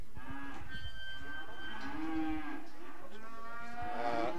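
Heifers at a cattle show and sale low and moo several times, close by and clear over a murmur of crowd and hall noise.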